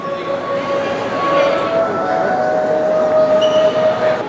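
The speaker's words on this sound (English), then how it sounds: "There it is, the Hogwarts Express." Hogwarts Express train on display at a studio tour, heard amid a busy indoor crowd as a steady rumbling ambience with faint tonal whistle-like notes, while people talk in the background.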